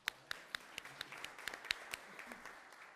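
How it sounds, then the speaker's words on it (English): Sparse, scattered hand claps ring out, a small group applauding unevenly for a few seconds at a modest distance. "We can clap."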